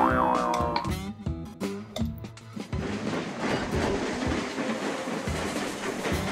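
Trains in the game Train Crisis roll along the tracks with a rhythmic clickety-clack, a few tonal chimes and clanks at the start giving way to a steady, busy rattle of wheels.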